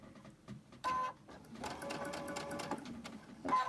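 Sewing machine stitching a quilted Christmas tree, running in steady bursts of rapid needle clatter with brief pauses between, fairly close and moderately loud with no talking.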